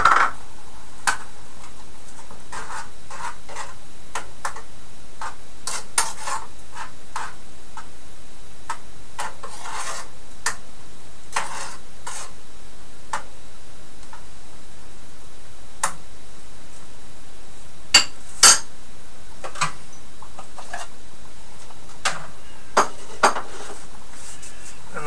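Spoon clinks and scrapes against a pot while frozen peas are stirred into homemade soup, scattered light ticking knocks over a quiet background.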